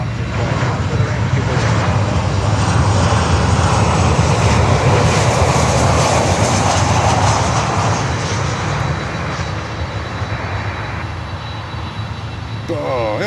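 A jet airliner touches down hard on a rough landing at Miami, its engines roaring loudly and steadily before gradually easing, with a voice speaking briefly near the end.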